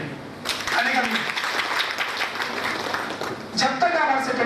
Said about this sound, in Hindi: जोड़ा ताली हो सबके लिए आने का भी